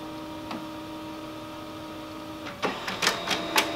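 An HP Color LaserJet Pro M277dw laser printer running a two-sided print job: a steady mechanical hum and whir, then louder rattling clicks and paper-feed bursts near the end.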